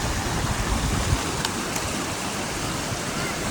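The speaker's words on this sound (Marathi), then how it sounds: "मध्ये पाण्याचा प्रवाह जास्त आहे" Strong current of the Sina river rushing past, a continuous loud roar of flowing water, close and steady, with a couple of faint high clicks and no speech.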